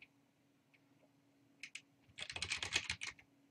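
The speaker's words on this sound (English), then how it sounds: "Go ahead and type in that password and then click Next." Someone types a password on a computer keyboard: a quiet tap or two, then a quick burst of close key clicks near the end, with no voices.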